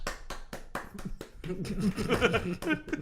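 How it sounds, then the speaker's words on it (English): Audience clapping in a lively crowd at a Star Wars fan event, sharp claps and snaps that start spaced and distinct, then grow into a dense, steady round of applause with chuckles mixed in. "Anything Star Wars, I'll clap for."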